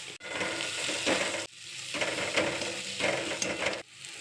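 Tomatoes sizzle steadily in a hot pan of tempering, broken by the scrape of stirring, with no talking.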